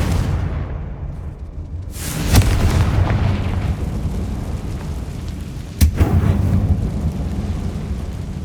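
A Confringo fire spell exploding in a tomb-like mine in Hogwarts Legacy on PS5, two heavy booms a few seconds apart, each followed by a long rumbling tail.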